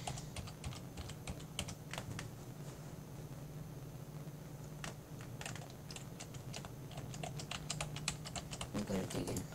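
Someone types on a computer keyboard in quick, irregular bursts of clicks over a steady low hum.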